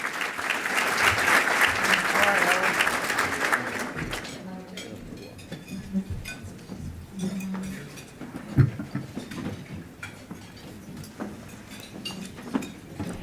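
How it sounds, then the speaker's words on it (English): An audience at a Joyce Foundation speaking event gives a loud round of applause that fades after about four seconds, followed by quieter room noise, scattered clinks and shuffling, with a voice speaking afterward. "Let's give them a round of applause."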